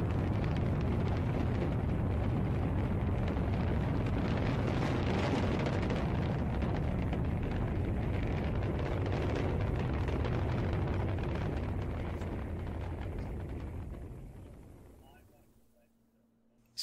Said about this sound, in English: More rocket sounds.